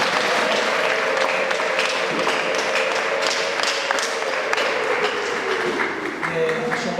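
Church congregation at a Sunday service clapping steadily and fairly loudly for several seconds, with a tonal hum and some voices running under the applause throughout.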